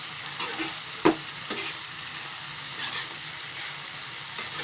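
Ghevda (flat bean) vegetable cooking in a pan on a gas stove, a steady soft sizzle with occasional stirring scrapes and one sharper clack of the spatula against the pan.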